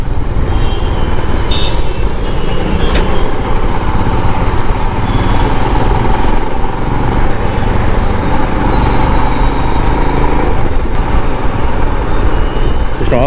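A new Royal Enfield Himalayan BS6 motorcycle engine runs steadily and loudly close by, a continuous rumbling drone with no talk over it.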